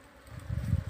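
Honeybees being shifted by hand from a hive spot in Jajarkot give a short, faint, low buzzing hum that swells toward the end, with no talk.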